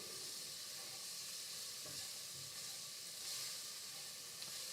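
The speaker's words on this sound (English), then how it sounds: "browning up the garlic. You can hear the sizzle." Garlic browns in a pan with a constant quiet sizzle and hiss, fairly faint, with small clicks and no voices.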